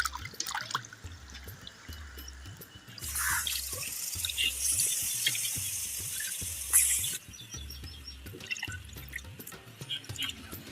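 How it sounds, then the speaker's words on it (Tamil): Tap water runs over raw chicken as it is washed in a kitchen sink for pepper chicken, a steady close splashing stream that swells louder in the middle, with dripping and low rhythmic thumps beneath. "சிக்கன் நல்லா கழுவி வச்சுங்க எடுத்து போட்டுக்கலாம்"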